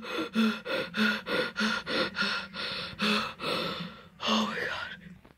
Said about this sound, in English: I heard hard breathing. The hard breathing was very loud.